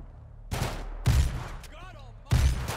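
Suppressed shotgun blasts from GTA V gameplay: three loud, sharp bursts spaced about a second apart, with a brief mechanical clack between the second and third shots and no talk.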